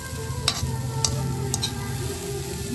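Grated coconut mixture for puto being stirred in a pan over heat, a steady low scraping and sizzle with a few brief sharper scrapes of the spoon, close and continuous.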